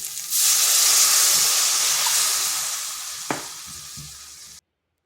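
Water poured into a hot pan of spice mixture for a noodle and bread breakfast, a loud sudden hiss of steam that slowly fades, with a brief utensil clink near the end before it cuts off.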